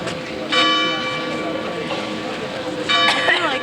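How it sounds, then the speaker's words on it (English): Church bells ring out at 11 o'clock somewhere in Germany, a bright sustained peal that swells and then returns more loudly toward the end over a steady outdoor background with people talking nearby. "The bells are ringing."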